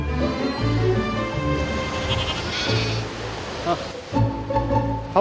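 Black goats on a Jirisan mountain farm bleat in several separate calls, near and fairly loud, mixed with a bit of human talk in the background.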